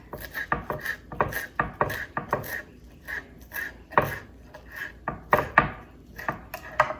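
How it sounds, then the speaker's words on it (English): Knife slicing a few basil leaves thinly on a board, a quick series of close, crisp cuts and taps with short pauses between strokes. "Just slice the basil thinly."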